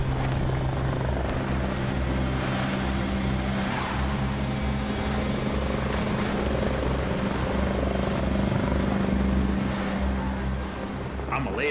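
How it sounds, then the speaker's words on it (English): A rescue helicopter near an avalanche site holds a steady, loud rotor and engine drone throughout, sounding close as it passes overhead, with faint voices underneath. "you could hear this helicopter closer and closer as if it's just right over our head"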